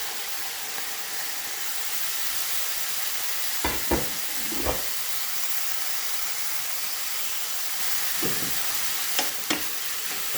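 Half a red pepper, half a green pepper and half an onion hiss and sizzle steadily in a hot pan, with a few scraping stirs of a utensil breaking through the frying noise.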